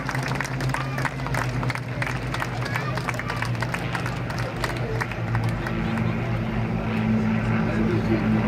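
A Spitfire flies over at the Blackpool airshow, its propeller engine droning and swelling beneath a public-address announcer's voice, with crowd noise and scattered applause in the background.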